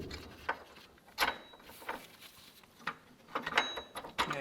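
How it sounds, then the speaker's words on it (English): Removing a 12 mm bolt from an Acura MDX belt tensioner, with quiet, irregular metallic clicks and scrapes in a loose rhythm, faint and close. "so to get it out, you're gonna have to take this bolt all the way out."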